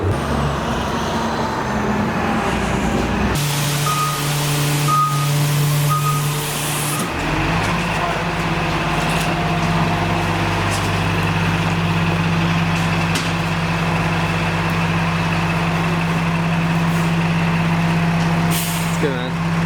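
Bus pulling into Hyde Park subway station, a heavy engine rumble with air-brake hiss, steady and close throughout while people talk nearby.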